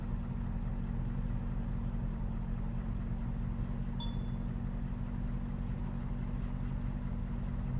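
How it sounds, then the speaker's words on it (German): Loud car exhaust in a police simulator video game: a steady, low engine drone rumbles continuously throughout, with one brief higher tone partway through. "ihr kennt der Auspuff ist ein bisschen laut."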